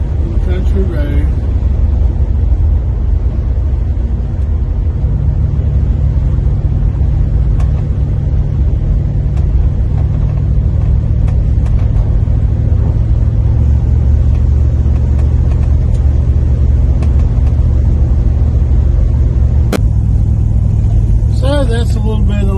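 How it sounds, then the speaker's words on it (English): A 1966 Plymouth Belvedere II cruises down a country road, its engine giving a steady, loud low rumble from inside the car throughout, with occasional small knocks and a brief rise near the end, while someone talks over it. "Take you for a little ride, just a little short ride down the road here."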